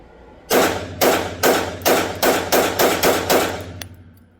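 A Springfield Emissary pistol fires about eight shots one-handed at a quick, even pace, each report loud, sharp and close with a short decaying tail, ending with a faint metallic click.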